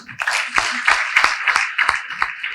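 A crowd at a Karni Sena foundation day gathering claps in a steady rhythmic beat, sharp hand claps repeating about three times a second, close and fairly loud.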